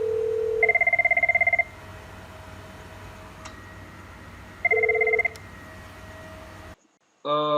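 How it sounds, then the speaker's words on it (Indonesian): A Cisco IP phone on a CME VoIP PBX setup rings during a call test between two IP phones: two clear electronic ring bursts separated by a pause, then a short burst of electronic tones at the end. "Tinggal kita testing telepon dari IP phone pertama ke IP phone kedua."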